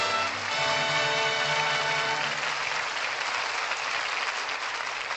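Studio audience applauding at the close of a 1948-era radio drama broadcast, a steady wash of clapping that swells and holds for several seconds, loud and unaccompanied by talk.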